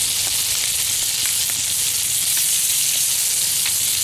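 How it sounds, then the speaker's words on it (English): Crab cakes frying in a cast iron pan over an outdoor fire, a loud, dense, continuous sizzle heard close up with faint crackles, no voices. "Let's go ahead and try to get a flip in on these things"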